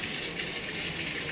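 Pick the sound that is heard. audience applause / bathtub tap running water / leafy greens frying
bathtub tap running water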